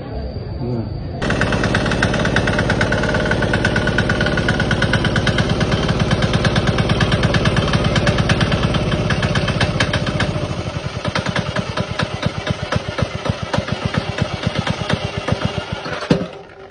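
A Vietnamese 170 diesel engine, 6.5 HP, runs loud and steady for about ten seconds, then settles into a slower, distinctly pulsing idle with clear separate firing beats until it stops.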